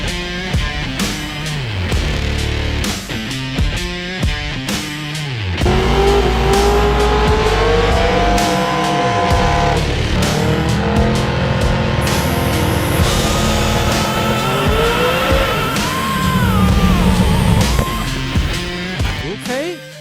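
A 1969 Yenko Pro Mod drag car with a boost surge on the two-step stutters and pops loudly at the line, then launches into a long, roaring full-throttle run down the drag strip, the engine note climbing and shifting.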